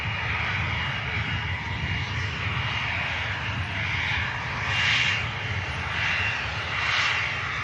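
EasyJet Airbus A320 taxiing to the Mike intersection at Manchester Airport, a steady broadband jet roar with a bright whine that swells twice, held at a moderate distance with no talk.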